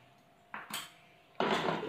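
A spoon clanks and scrapes inside a pot of mustard-greens saag with butter, two short metallic knocks followed by a longer, louder scraping stir, close up.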